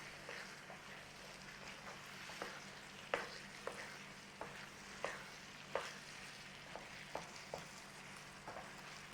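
Beef mince curry sizzling and frying in a pan, with a steady soft crackle and repeated clicks of stirring, no talking.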